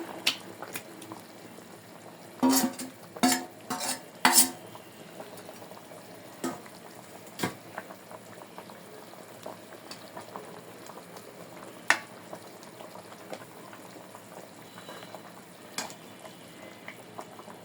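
Shol fish curry with cauliflower, potato and ripe tomato simmers uncovered in a pan, a soft steady bubbling broken by a few sharp clinks and knocks from stirring.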